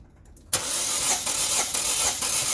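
A car engine cranks and catches with a loud, sudden onset after a quiet moment, then runs steadily with slight surges, during a cylinder compression check for a suspected bad head gasket with the radiator cap off.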